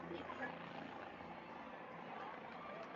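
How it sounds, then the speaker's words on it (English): Helicopter rotor and engine noise from a craft approaching over a high school varsity football semifinal field, a steady broadband drone throughout, mixed with crowd murmur and talk. "we're looking to the sky and we have a helicopter coming in"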